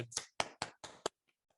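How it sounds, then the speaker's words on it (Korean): A group at a Korean church children's AWANA activity claps hands to close the session: about five distinct, close claps in quick succession, followed by a couple of faint stray taps and silence. "자, 여러분들의 수많은 갈등을 위해 박수로 마치겠습니다"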